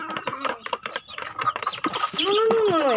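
Farmyard chickens of various colours, mostly yellow, cluck and squawk close by as they are fed rice, with a person's voice mixed in among the steady bird calls.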